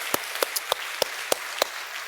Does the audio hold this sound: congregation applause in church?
yes